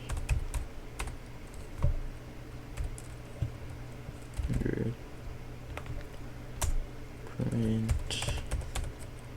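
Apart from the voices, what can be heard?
typing code on a computer keyboard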